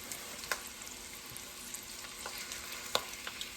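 Cold rice sizzles and fries as it browns in a pan for breakfast dirty rice, a steady close crackle with occasional light scrapes and clicks of stirring and no talking.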